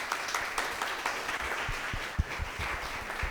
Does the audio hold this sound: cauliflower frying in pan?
no